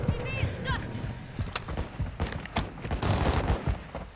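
A sniper rifle cracks in a video game, part of a burst of sharp gunshots spread across a few seconds, heard over game noise while players talk.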